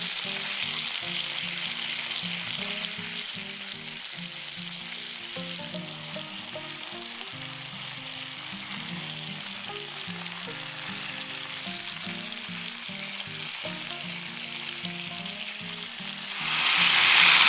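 Chicken tabaka sizzles steadily in a pan with garlic over reduced heat, a continuous close frying hiss with a louder burst of sizzle near the end, no talking.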